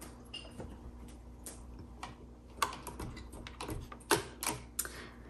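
Keys striking on a 1954 Hermes Rocket portable travel typewriter, close and quiet, in an uneven run of sharp clacks that cluster more densely in the second half.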